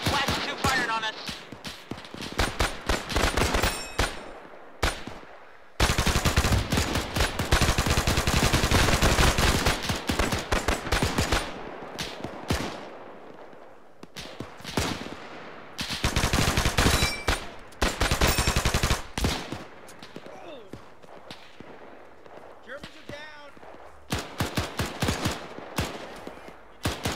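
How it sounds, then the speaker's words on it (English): Heavy German gunfire in ArmA 3, a WWII Tunisia campaign scenario: dense bursts of automatic and rifle fire in long loud volleys, broken by short lulls and scattered single shots, with voices talking in between. "We got German firing at us from that compound."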